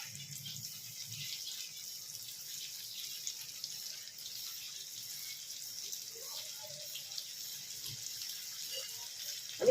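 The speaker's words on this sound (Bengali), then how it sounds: "এবার আমি দ্বিতীয় পাটেও কিছু ছেড়ে ভেজে নিচ্ছি।" Chicken pieces fry in a pan of hot oil at home, giving a faint, steady sizzling hiss with a few soft pops near the end.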